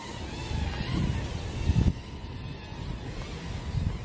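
A Snaptain SP310 drone flying outdoors at its highest rate in wind: a steady, faint motor whine under heavy wind rumble and gusting noise against the microphone.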